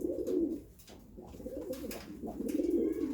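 Pigeons, including a blue post pigeon, coo in low throaty rolling bursts close by, several overlapping calls repeating across the moment with soft rustling in between.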